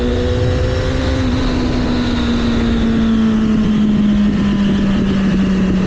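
A motorcycle engine steadily revving as it accelerates, one sustained droning note sliding slightly in pitch over a rumbling, windy background, close and loud with no talk.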